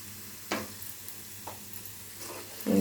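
Mustard, cumin and fenugreek seeds sizzle faintly in hot oil in a pan with fried garlic for a carrot pachadi, with a soft steady hiss broken by a few light scrapes of stirring, quiet and close.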